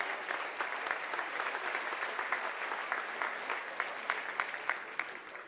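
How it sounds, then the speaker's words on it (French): An audience in a French-speaking gathering claps for itself. The applause is moderate and somewhat distant, with individual claps popping out of a steady patter, and no voices over it. "vous pouvez vous donner une bonne main d'applaudissement"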